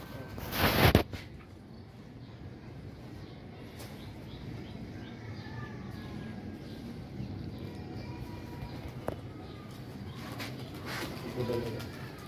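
Pigeons coo softly against a quiet background, with low repeated murmuring calls scattered through the scene and a brief loud rustle near the start as birds are handled.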